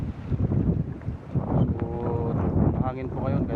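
Strong seaside wind buffets the microphone in low, rumbling gusts on a beach facing the water, with someone talking over the noise throughout.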